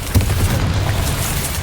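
A Bombarda spell blast in Hogwarts Legacy, a loud close low boom with rumbling aftermath lasting through the short moment, no talk.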